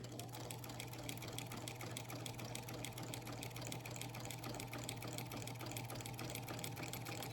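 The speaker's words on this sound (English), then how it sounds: "Stitch across those last couple of inches again." A sewing machine stitching quilt binding, backing up and restitching the last couple of inches, gives a steady, continuous mechanical whir with a fast rattling stitch rhythm throughout, close and constant.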